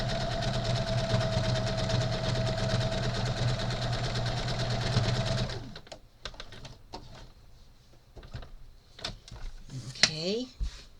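A sewing machine stitches rows across a crazy scrappy quilt piece, running steadily and close for about five seconds before stopping, followed by quieter clicks and handling noises.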